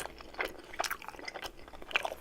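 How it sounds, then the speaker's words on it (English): Crunchy bites and wet chewing of a Popeyes fried chicken sandwich with pickles, close to the mic, with several distinct crunch bursts spread over a couple of seconds and no talk. "I don't know if I can hit the crunch or if it just sounds like I'm smacking"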